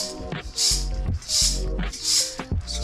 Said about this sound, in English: So we'll give them a few tosses like so.